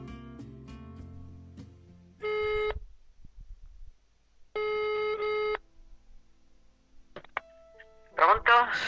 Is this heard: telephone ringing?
yes